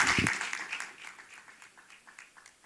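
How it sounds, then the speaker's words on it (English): A brief round of applause from an audience at a televised business and health discussion, strongest at the start and thinning into scattered claps that fade over a few seconds. "Please, can we give her another round of applause"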